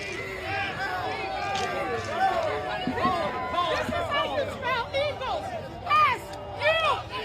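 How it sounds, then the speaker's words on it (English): Crowd yelling at Philadelphia mayor Cheryl Parker at an Eagles football celebration, a dense, loud roar of many voices with shouts and whoops rising and falling throughout. "so here she is getting yelled at."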